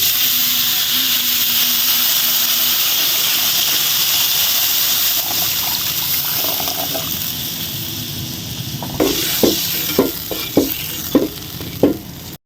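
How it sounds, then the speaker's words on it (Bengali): Water is added to a sizzling, fried spice paste for a Bengali tengra fish red curry. A loud, continuous hiss and bubbling settles, then a utensil scrapes the pan in a string of rhythmic strokes. "এবার ঝোল করার জন্য আমি পরিমাণ মতো জল দিয়ে দেব।"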